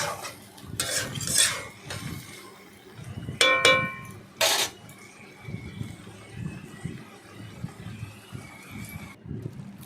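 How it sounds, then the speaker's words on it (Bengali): A utensil stirs lote fish and ridge gourd curry in a pan, making soft irregular scrapes and a few sharper metallic clinks against the pan over a faint background. "দিয়ে সেটাকে ভালো করে নাড়াচাড়া করলাম"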